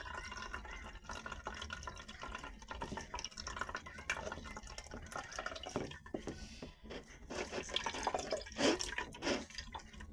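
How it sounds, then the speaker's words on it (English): Liquid pours and drips while a chickpea coconut curry mixture is strained, a steady trickling splash lasting about ten seconds, with no talking. "We're gonna pour all of it in there, just like that."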